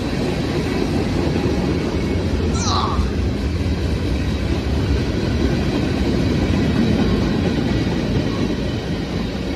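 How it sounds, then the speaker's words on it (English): A westbound manifest freight train led by a Dash 9-40CW locomotive rolls past on the Pittsburgh line, a continuous loud rumble and rattle of rail cars that holds steady for the whole stretch with no talking. "The presence of yet another Dash 940 CW wouldn't be the only amazing thing about this westbound manifest."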